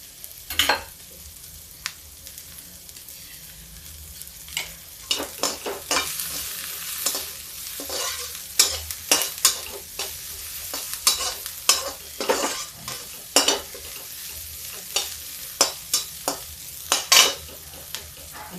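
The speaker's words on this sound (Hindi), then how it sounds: "अब प्याज थोड़ा तेज करते हैं।" Onions frying in a pan for a Hindi-style kadhi, sizzling steadily while a spoon stirs and scrapes in frequent, irregular clacks and rustles, close and clear with no talking.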